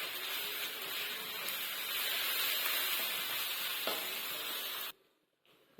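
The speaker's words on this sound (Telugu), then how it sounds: "ఇంకా పచ్చి వాసన పోయేంత వరకు వేయించుకోవాలి." Onions frying in a pan with turmeric and ginger-garlic paste: a steady, bright sizzle with occasional stirring scrapes, close and continuous, cutting off abruptly near the end.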